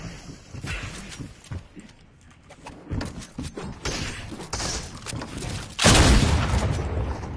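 Gunshots in a PS4 video game: scattered thumping shots and booms of varying loudness, ending in a heavier, denser burst of fire, with no talk over them.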